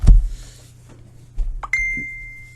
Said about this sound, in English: Excuse my phone bleeping away.